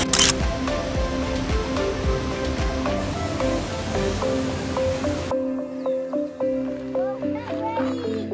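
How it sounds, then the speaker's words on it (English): Water rushes steadily at a hidden waterfall in Curt Gowdy State Park, heard from waist-deep water nearby as a constant broadband roar, with people talking over it and the sound briefly thinning out toward the end. "we made it to the hidden waterfall"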